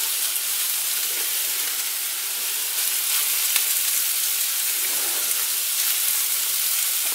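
Steady, dense sizzling of meatballs frying in a hot pan, a continuous crackling hiss with small pops, close and fairly loud, no voices.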